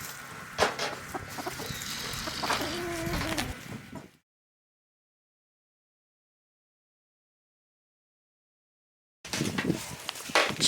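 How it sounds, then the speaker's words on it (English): A backyard flock of chickens, including an Americana hen, clucks and murmurs while scratching through leaves, close by; the sounds run for about four seconds, break into silence, then resume. "Chickens are enjoying the leaves."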